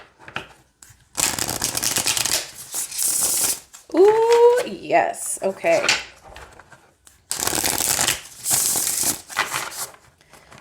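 Papery oracle card shuffling in short bursts, close by, with brief pauses between riffles and a voice speaking a few words in the gaps.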